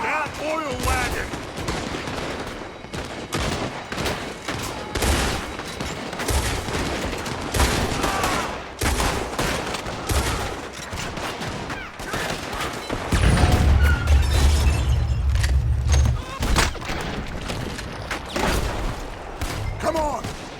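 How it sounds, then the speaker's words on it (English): Red Dead Redemption 2 shootout: rapid bursts of gunfire crackle continuously, mixed with heavy thuds and a deep rumbling boom partway through, while characters shout over the fight. "Gun them down."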